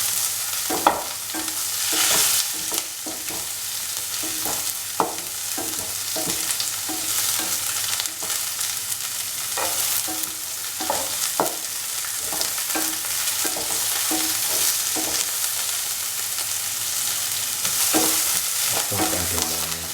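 Long slender onion pieces fry in a pan with salt, sizzling loudly and steadily while a utensil stirs and scrapes them in frequent close knocks and clatters.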